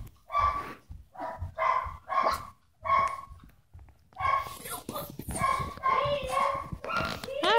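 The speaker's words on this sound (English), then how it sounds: "What is she barking about" A chocolate labradoodle barks in a run of sharp, repeated barks close by, with short gaps between them, then a voice speaks over more yips and barks.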